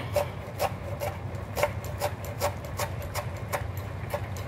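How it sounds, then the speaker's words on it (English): A knife chops rolled fresh Italian parsley on a cutting board in a home kitchen, a steady run of about a dozen close, crisp taps at an even rhythm over low background hum. "Watch those fingers keep that knuckle and the knife right there."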